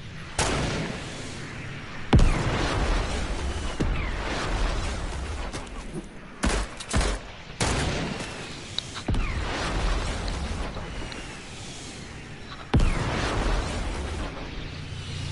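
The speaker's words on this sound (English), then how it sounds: "Where did they get a rocket launcher? Oh, here comes a rocket." Gameplay of a shooter video game with rocket launcher blasts and gunfire, heard as dense, continuous booms and crackling bursts, some sharp impacts standing out, close and loud throughout with brief gaps.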